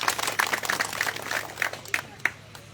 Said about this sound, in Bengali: দয়া করে সবাই একটু হাত তালি দিন।